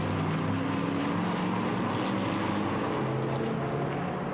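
Shelby Cobra race car at the Red Bull Ring during a Histo Cup historic race, its engine a steady, loud, continuous roar with no pauses and no voices over it.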